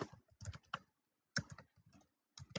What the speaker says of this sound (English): We'll type in Alice